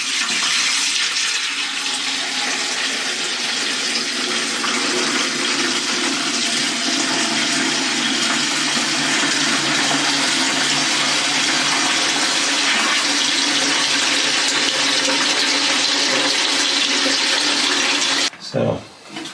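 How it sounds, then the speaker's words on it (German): Water poured from a 10-litre watering can into a toilet cistern makes a continuous loud gushing, splashing stream that runs steadily for most of the stretch and stops abruptly near the end. "Wasser holen kann und zum Beispiel die WC-Spülung wieder aufzufüllen, wenn man kein fließendes Wasser hat"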